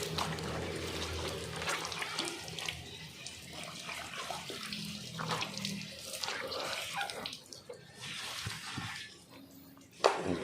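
Water is poured and splashed over a car with yellowed white paint and chrome trim to rinse it, giving a continuous uneven gush and patter, with a sharper splash near the end.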